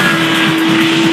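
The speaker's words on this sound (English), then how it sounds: "the thing's got a stomping motor" 2009 Kawasaki ZX10R sport bike on a race track, a loud sustained engine roar at steady high revs with a strong tonal drone, close and continuous.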